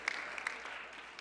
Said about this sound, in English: don't hold the applause in. Let it out.